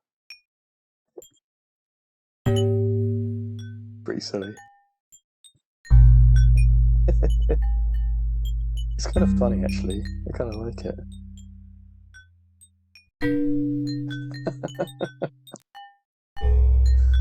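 Dry, bouncy cartoonish puzzle game sound effects with tonal blips and swoops, reverb bypassed so no echo tail, alternating with short stretches of a person talking.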